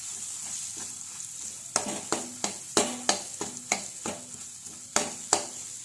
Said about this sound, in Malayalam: നമ്മൾ ആ കീമ പോലെ ഗ്രൈൻഡ് ചെയ്ത് വെച്ചിരിക്കുന്ന പ്രോൺസിനെ അങ്ങോട്ട് ഇട്ട് നന്നായിട്ട് മിക്സ് ചെയ്ത് യോജിപ്പിക്കുക